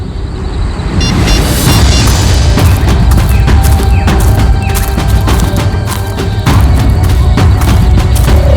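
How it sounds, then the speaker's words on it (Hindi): Gunshots fired inside an abandoned, long-shut house crack out as a dense, loud barrage of booming thuds and sharp bangs. Energetic dramatic music plays underneath. "ये पटाखों की आवाज नहीं, कोई गोली बरसा रहा है"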